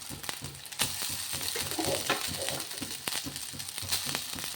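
Rice being stirred into a hot pan of Kerala-style fried rice, a steady sizzle with repeated scraping and tossing strokes at an even rhythm, close and fairly loud with no talking.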